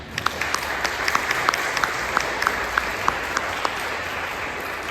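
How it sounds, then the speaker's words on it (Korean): A church congregation claps at a Sunday service to welcome visiting guests, a brief, dense round of hand claps with a few sharper individual claps standing out. "박수로 환영드리겠습니다."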